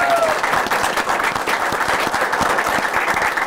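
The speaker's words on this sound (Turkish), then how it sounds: "Alkışlarınız Mete Gazoz, Aysu Türkoğlu için." Studio audience on a Turkish TV comedy show applauds steadily as guests are welcomed, a dense, sustained wash of clapping close and loud throughout.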